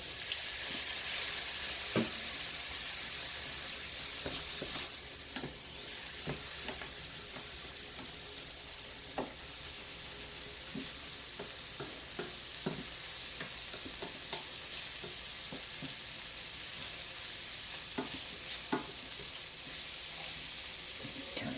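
A pan of chicken mushroom risotto with wine sizzles steadily and close while a spatula scrapes and stirs across the bottom in repeated strokes. No one talks.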